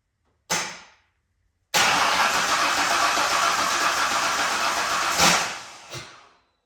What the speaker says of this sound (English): if we touch this down here and it cranks over, maybe she'll fire